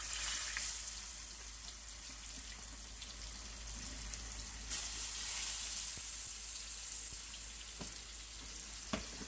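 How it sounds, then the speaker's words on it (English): Porterhouse steaks sear in a very hot skillet, a steady, fairly quiet sizzling hiss with occasional faint pops and crackles, heard alone without talk. "I'm going to go ahead and get them going in a real hot skillet"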